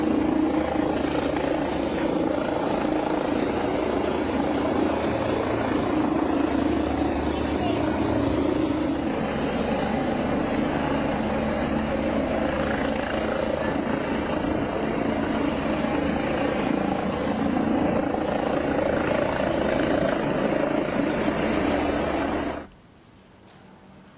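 A low-flying helicopter's steady, loud rotor roar and engine drone fill the whole stretch, close and continuous, then cut off abruptly near the end.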